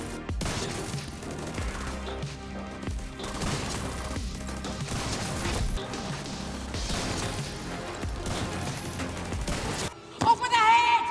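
Shotgun headshot kills in the video game Division 2 come as a rapid run of loud, sharp blasts and impact crashes, densely packed with a brief drop-off and a sudden burst near the end.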